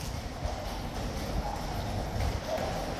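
Hooves of King's Guard horses clip-clopping on pavement in London, a steady mid-distance patter of hoofbeats over outdoor crowd ambience.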